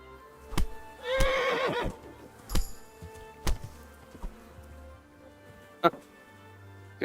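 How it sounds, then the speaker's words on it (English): A horse in the medieval game Kingdom Come: Deliverance neighs loudly in a short whinny, then sharp thuds and hoof-like knocks follow at irregular intervals, while a low ambient hum runs underneath. "I can punch the horse."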